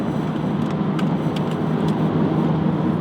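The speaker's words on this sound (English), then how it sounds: "this video today will take place almost entirely right here in my car" A steady low road and engine rumble fills the cabin of a car, even and continuous with no talk.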